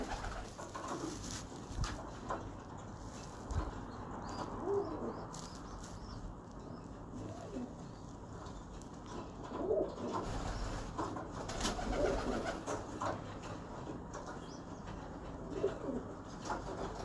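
Breeder's pigeons coo softly and repeatedly, with low murmuring calls scattered over a steady ambient background. Occasional faint chirps and small rustles surface between them, and no one speaks.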